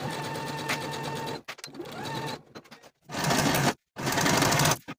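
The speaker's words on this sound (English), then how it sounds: "I'm going to be using my serger" A serger finishes a pocket seam on a pair of pants, running in loud bursts of fast mechanical whirring separated by short pauses and stops, close by.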